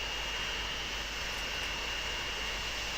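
A jet airliner comes in low to land in the train-and-transport simulation game Transport Fever, a continuous, even engine roar holding steady throughout with no speech over it.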